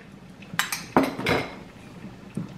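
Cornstarch slurry is tipped from a bowl into a pot of savory oxtails and stirred in, giving a few sharp clinks and clanks of utensils against cookware with quiet pauses between.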